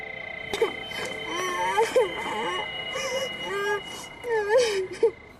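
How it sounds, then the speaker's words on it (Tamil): A young child wails and whimpers in close, repeated sobbing bursts with rising and falling moans, set in a Tamil horror television drama. "அட, குழந்தை அழுவது, அதுவும் நான் இங்கே இருக்கும்போதா?"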